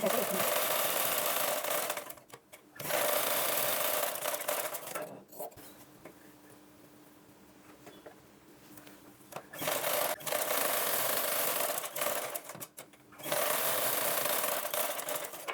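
A sewing machine stitches blouse pieces together in bursts of fast, steady mechanical whirring, close and loud, broken by short pauses where the machine stops.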